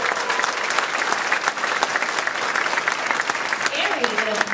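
A large audience at a sci-fi expo Q&A claps in a sustained, loud wash of applause that fills the room for several seconds, with voices mixed in.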